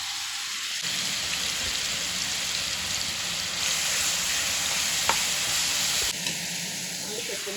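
Onion masala with chicken sizzling and frying steadily in a pan, a dense hiss that swells after a brief clatter at the start, with a faint tap and a bump of the pan near the end.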